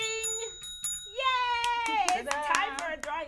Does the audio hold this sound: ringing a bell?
yes